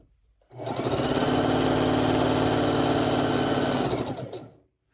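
Sewing machine stitching through a quilt, a steady fast motor whir with rapid needle chatter that starts abruptly, runs continuously for about four seconds, then stops.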